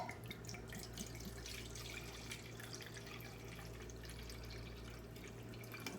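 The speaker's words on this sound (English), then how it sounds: "And I'm gonna add a cup of Marsala cooking wine." Marsala cooking wine poured by the cupful into a hot pan, a steady liquid stream with light trickling and splashing over a constant low kitchen hum.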